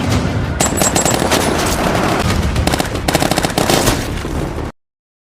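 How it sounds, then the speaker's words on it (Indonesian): Gunfire in a film shootout scene against terrorist forces, with dense rapid machine-gun bursts and sharp individual shots crackling continuously, loud and close, before the sound cuts off abruptly. "membuat adegan baku tembak tidak dapat dihindarkan"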